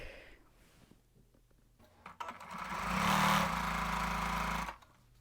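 Sewing machine stitching through quilt fabric, a steady close mechanical whir that starts after a few quiet seconds, runs at a constant speed for about two and a half seconds, then stops.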